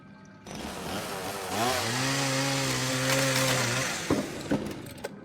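A chainsaw in Tormented Souls 2 revs up from a sputter into a loud, sustained buzzing whine, then cuts off, followed by a few sharp thuds.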